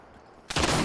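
Apex Legends gunfire erupts suddenly after a quiet moment, a loud, brief burst of rapid shots.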